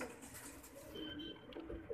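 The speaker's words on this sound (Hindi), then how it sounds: "2019 मोहर वाला कबूतर" A 2019 Mohar-type pigeon coos softly in a few low rolling calls over a steady background hiss, with no voices present.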